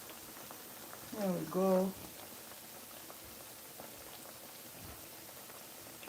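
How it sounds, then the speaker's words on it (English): Akara bean cakes frying in hot oil give a steady, crackling sizzle like light rain, with a voice speaking briefly over it. "adding the akara to the oil"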